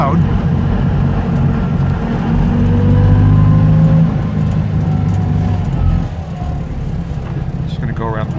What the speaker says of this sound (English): Motor's a little loud.